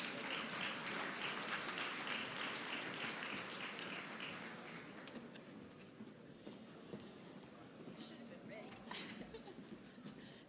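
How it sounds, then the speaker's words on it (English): Convention crowd at the 2023 SUMA gathering claps for the association's president, a broad round of applause that is loud at first and gradually thins and fades, with scattered claps and murmuring toward the end. "Let's give Randy a round of applause,"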